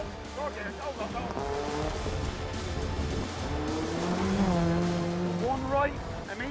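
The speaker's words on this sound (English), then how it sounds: "Rev it up, rev it up." A rally car on a competition stage, its engine revving and droning steadily with rising pitch as it drives, while a co-driver keeps calling out over the engine.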